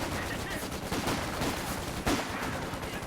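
A Vickers machine gun firing in the World War II strategy game Company of Heroes 2, steady rapid bursts of gunfire heard at a distance, mixed into busy battlefield noise with some faint voice sounds.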